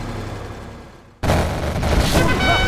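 Abrupt onset of loud, sustained rapid quad cannon fire in Command & Conquer Generals Zero Hour, a dense barrage of booming shots continuing without pause.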